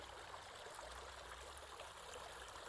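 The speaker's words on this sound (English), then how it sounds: "So here we are in this beautiful creek." Water flowing steadily in a creek, a continuous close rushing and trickling wash with no voices.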